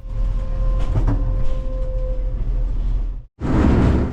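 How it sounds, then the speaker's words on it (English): Old Malaxa railcar running on poor-quality Romanian railway track, a loud continuous rattling rumble with a steady droning tone and knocks, broken by a brief cut near the end before the noise resumes. "the constant rattling and noise from this Malaxa railcar on the poor quality railway track"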